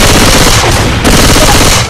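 Rapid automatic gunfire from the zombie shooter game Left 4 Dead 2 rattles loud and dense for nearly two seconds, with a brief dip midway before the burst resumes.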